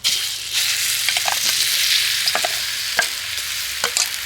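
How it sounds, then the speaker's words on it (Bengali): Soaked gram flour and flattened rice mixture hits hot oil in a wok, a loud bright hiss and sizzle throughout with scattered scraping stirs up close, no talking. "এবার আমি বেসন আর চিড়ের যে মিশ্রণটা ভিজিয়ে রেখেছিলাম সেটা কড়াইতে দিয়ে দেব।"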